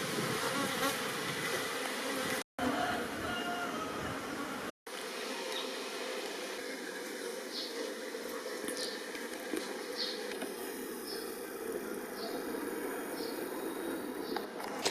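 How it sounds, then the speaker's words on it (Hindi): Honeybees kept by a hobby beekeeper swarm around their hive, a dense, steady buzzing hum that stays loud and continuous, with a couple of brief dropouts early on. "शहद की मक्खियों का घर, और इसमें हजारों मक्खियां"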